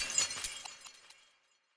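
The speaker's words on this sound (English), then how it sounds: "slammed shoulder first into the glass." Glass shatters with a sharp crash, then shards tinkle and scatter in a few bright clinks that fade out to silence within about a second.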